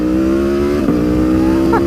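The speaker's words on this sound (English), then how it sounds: "I'm on the Tuono 1100 factory. First time riding it with carbon wheels." Aprilia Tuono 1100 Factory motorcycle fitted with carbon wheels, a 520 chain conversion and lightweight sprockets, heard on the move with a loud, steady engine drone that dips briefly mid-pass and then climbs in pitch as the revs rise.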